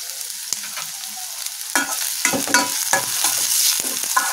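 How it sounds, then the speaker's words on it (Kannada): Vegetable fried rice stir-fried on a high flame, with steady loud sizzling and repeated scraping and tossing strokes of a spatula in a pan, close up and alone without talk. "ಇದನ್ನೆಲ್ಲ ಹಾಕ್ಕೊಂಡು ಹೈ ಫ್ಲೇಮಲ್ಲೇ ಇದನ್ನ ಫ್ರೈ ಮಾಡ್ಕೊಳ್ಬೇಕಾಗುತ್ತೆ"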